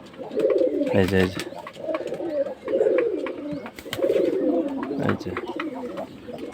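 Pigeons sunning themselves in warm morning air after a night of rain and storm coo in repeated throaty rolls, close and clear, while someone speaks briefly over them.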